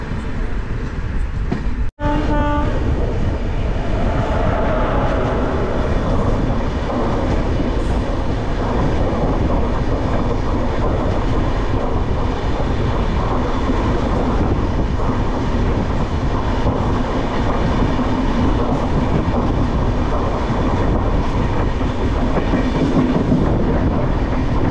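An express train rumbles steadily along the rails throughout, a continuous loud roar with faint rhythmic clatter and one brief sharp click near the start, leaving Villupuram Junction in India.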